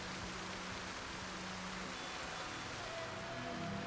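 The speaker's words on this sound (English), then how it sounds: "I love how well you can hear it, the rain" Rain heard through an open window in a zombie survival video game set in Knox County, a steady even hiss of falling rain filling the background without breaks.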